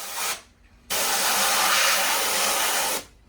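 A brief hiss, a pause, then a longer steady spray of water onto a printing screen, hissing for about two seconds before cutting off.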